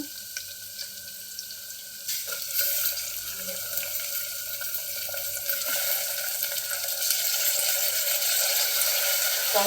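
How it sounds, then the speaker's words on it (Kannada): Roasted sprouted legumes go into a hot pan for gravy, and a steady hiss builds and grows louder and fuller over the seconds, close and continuous, with no talking. "ಇವಾಗ ಇದಕ್ಕೆ ಮೊಳಕೆ ಕಾಳನ್ನು ಹುರಿದಿಟ್ಕೊಂಡಿದ್ದೀವಲ್ಲ ಅದನ್ನು ಹಾಕೋಣ"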